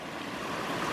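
Water pours steadily over a boulder waterfall and spillway, a continuous close rush with no voices.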